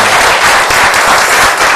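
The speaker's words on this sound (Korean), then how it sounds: "박수 한 번 더 쳐주시고" A church congregation claps together during a Sunday worship service. Dense, loud, steady applause fills the whole short stretch, with no voices over it.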